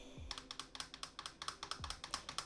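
Typing on a computer keyboard, with quick, fairly even key clicks in a steady run, close but quiet and with no talk.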